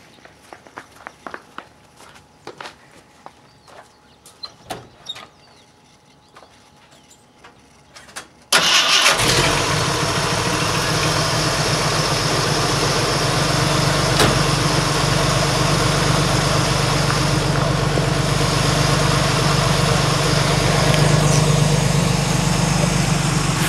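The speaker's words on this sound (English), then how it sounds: "I'll go ahead and start her up" A Jeep sits quietly with faint handling and footsteps, then the engine cranks and catches with a sudden roar and settles into a loud, steady, rumbling idle that runs on for about fifteen seconds.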